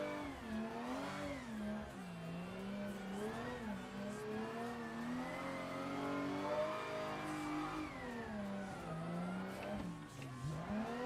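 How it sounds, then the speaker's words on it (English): Car engine in the Assetto Corsa racing game revving steadily during a full steering lock drift, pitch rising and falling continuously at moderate loudness. "this is Assetto corsa, guys. How difficult is a full steering lock drift?"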